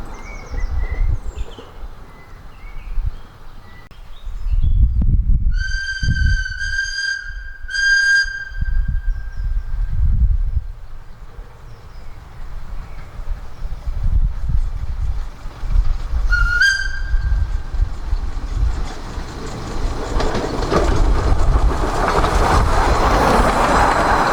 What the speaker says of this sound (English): As the railway crosses the road here, a clear warning whistle must always be sounded